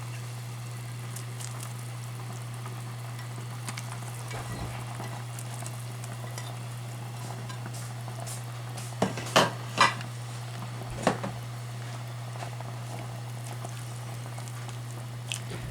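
Bracken and mushrooms go into a pot of yukgaejang with a soft low bubbling and sizzle over a steady hum, then a few clinks and scrapes of a utensil stirring partway through.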